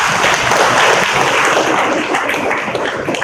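A church congregation applauding at a Holy Communion service, a steady, dense wash of many hands clapping together that holds loud and even throughout.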